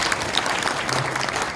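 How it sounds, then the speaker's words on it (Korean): A gathered audience at a New Year address claps together, continuous dense applause, loud and close, running steadily from start to finish without speech over it. "우리 다 함께 자축하는 박수 한번 칩니다."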